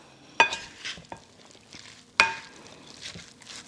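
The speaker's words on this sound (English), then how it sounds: "we're going to give this a good mix" Grilled corn salsa being tossed with parsley and cilantro, giving two sharp utensil clacks against the bowl amid soft, close scraping and stirring noises, with no talking.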